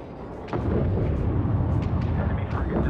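An enemy frigate blows apart in Homeworld 3, a sudden deep boom that rolls into a sustained rumbling blast with scattered cracks, loud and close within the game's sound mix.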